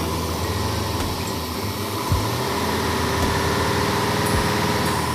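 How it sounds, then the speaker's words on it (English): An old dually truck engine runs rough and struggles to idle, a loud steady low rumble with uneven knocking pulses and faint clanks, no voices over it. "Seems to hold RPM good, it just doesn't want to idle."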